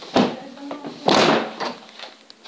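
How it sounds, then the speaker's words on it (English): A door is pushed shut indoors, giving two close, distinct thuds about a second apart with a short rattle of the latch between, and faint room noise after. "I closed the door."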